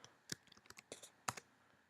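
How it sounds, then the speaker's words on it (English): Computer mouse and keyboard in a Soundation music-software session: a sharp double click followed by a short run of quiet, close key taps and a final firm keypress, with no talking. "So I just double clicked, typed in the tempo and hit return"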